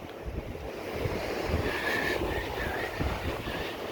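Surf rolls onto a beach, a broad, steady wash of waves with wind buffeting the microphone, close and fairly loud and swelling slightly over a few seconds, with no clear talk.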